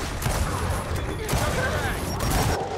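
A grenade explosion in the Gears of War 4 video game, a dense, rumbling burst of blast and debris noise that stays loud through the short moment, with voices talking over it.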